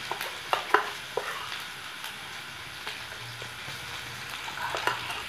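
Garlic sizzling and frying in a pan for Manchurian sauce, a steady crackling hiss with a few sharp pops and stirring clatters, close and moderately quiet.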